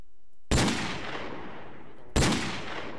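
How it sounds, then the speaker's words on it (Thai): Two loud, close gunshots from a gun mod in Minecraft, each a sharp blast that trails off over about a second and a half. "วิธีการยิงก็ยิงแบบนี้ ซุ่มซุ่มเข้าไปแล้วก็กดตรงนี้ ใส่กระสุน ลองยิงใส่หมูหน่อยครับ"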